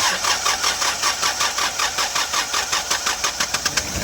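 A Hyundai Porter II with a D4CB diesel engine cranks and starts, a close, steady rhythmic churning of the starter and engine that runs loud and alone without a break.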